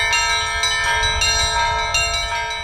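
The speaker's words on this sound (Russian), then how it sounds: "Два здания, церковь и колокольню, видно издалека и уже слышно." Church bells ring from a bell tower with loud, sustained metallic tones, several strikes overlapping into a continuous resonant peal, with no voices.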